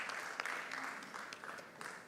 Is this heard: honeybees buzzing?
no